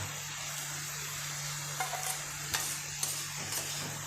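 Pumpkin pieces and softened onions frying in a pan for a Tamil yellow pumpkin poriyal, with a steady low sizzle and a few soft clinks of a spoon stirring near the end, no voices.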